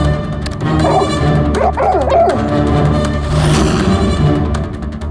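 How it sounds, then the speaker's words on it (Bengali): A dog barks and yips in short bursts each time a talk-back button is pressed, close and fairly loud with whimpering between barks. "যখনই বোতামটা টিপছে টেপার সঙ্গে সঙ্গে কুকুরটা ডাকছে।"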